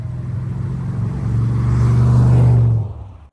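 A C4 Corvette accelerates hard along back roads, its loud, close engine note swelling steadily and holding a strong droning roar before cutting away abruptly near the end.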